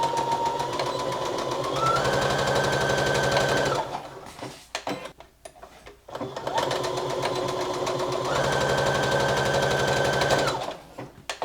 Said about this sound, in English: we're gonna place these right sides together and sew them together at the short sides